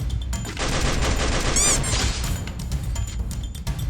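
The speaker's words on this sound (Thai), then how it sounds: "เขายิงกันอยู่" Players trade dense, rapid gunfire in a video game, loud and continuous across the clip, with a sharp metallic squeal mixed in partway through.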